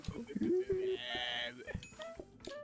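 A voice imitates dinosaur noises in a game of PlateUp, with drawn-out groaning, lowing calls and a rising tonal roar, close up, among other voices and game sounds.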